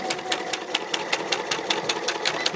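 A sewing machine stitches along a quilt band, its needle thudding in an even, rapid rhythm of about five strokes a second, close and clear with no talk.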